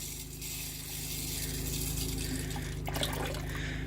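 Water runs steadily from a newly installed tap at a homestead, a continuous splashing flow with a faint rattle and a hum underneath.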